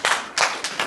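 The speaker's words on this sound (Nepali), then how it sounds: "मलाई परमेश्वरलाई ताली बजाउनुहोस्।" A church congregation claps in three quick bursts, a soft roomy patter of many hands at moderate distance.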